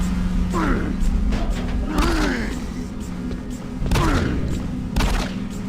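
Gunfire in the video game Doom 3 arrives as several loud, sharp blasts spaced a second or two apart over mechanical creaks and a steady hum, with someone talking between shots.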